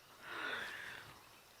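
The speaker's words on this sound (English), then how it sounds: "that was the cutest sneeze ever." A single soft, breathy animal sneeze on a windy night safari, a brief close snort-like burst of about half a second fading into quiet wind.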